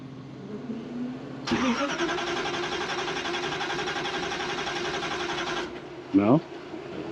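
An engine with a blower cranks and fires, running for several seconds with the fuel ports left unplugged, then cuts out, followed by another brief cranking burst.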